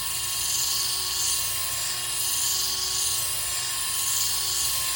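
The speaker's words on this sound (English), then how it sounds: "sand this bottom completely flat" A handheld resin sander grinds cured resin flat with a steady, continuous high-pitched whine and buzz that holds at constant loudness throughout.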